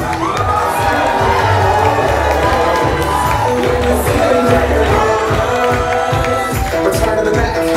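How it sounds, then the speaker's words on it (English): Wedding reception guests cheer, whoop and clap loudly for the wedding party's entrance, a continuous crowd roar with shouting voices over rhythmic music, close and full. "How about a big round of applause for Nolan and Molly?"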